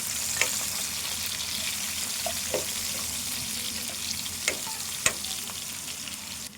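Onion and green chillies frying in hot tempering oil for a chicken curry, a soft continuous sizzle with a few sharp clicks of a spoon against the pan.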